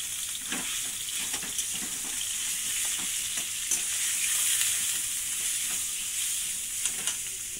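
Chicken pieces fry for chicken bora curry, giving a loud, steady sizzle with occasional crackles and stirring scrapes close by throughout.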